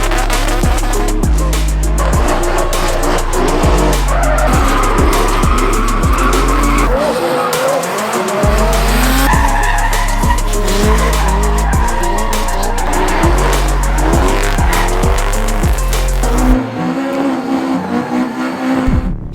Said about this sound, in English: No better boys to test the twin drifting anyway.